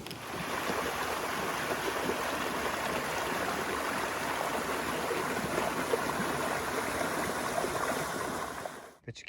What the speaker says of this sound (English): There's the river right there.